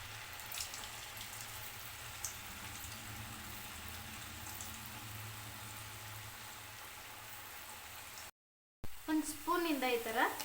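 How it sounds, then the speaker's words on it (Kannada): Potato pieces fried in hot oil for honey chilli potato, a steady soft bubbling crackle that stops briefly before a voice begins speaking. "ಈ ರೀತಿ ಕಾದಿರೋ ಎಣ್ಣೆಗೆ ಒಂದೊಂದಾಗಿ ಹಾಕ್ಕೊಳ್ತಾ ಇದ್ದೀನಿ. ಈ ರೀತಿ ಬಿಡಿಯಾಗಿ ಹಾಕೊಂಡು ಫ್ರೈ ಮಾಡಿ."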